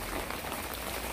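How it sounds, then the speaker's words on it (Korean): Rain falls steadily outdoors where potted succulents and chrysanthemums sit, a dense, even hiss of drops that never lets up, with no voices. "비가 계속 오고 있습니다"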